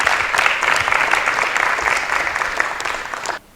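A church audience at a Christian youth programme breaks into sustained applause. Many hands clap densely and evenly for over three seconds, then the applause stops abruptly.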